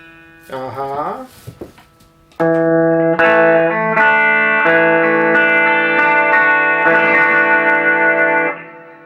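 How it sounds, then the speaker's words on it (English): A brief burst of talk, then a bright, shimmering 12-string electric guitar in Nashville tuning rings out in sustained, chiming chords with a jangly, high-pitched sparkle before stopping abruptly. "And Nashville tuning is just the thin guitars from the 12-string guitar"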